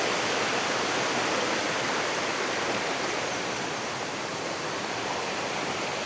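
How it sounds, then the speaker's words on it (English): A river flows steadily close by on the Hafod Estate, a dense, continuous rush of water with no breaks, voices or other sounds. "So we're right down next to the river now."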